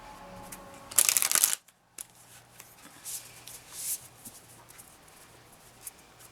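A deck of moon oracle cards shuffled in a quick riffle, one loud bright burst close by followed by softer shuffling and card taps in a quiet room.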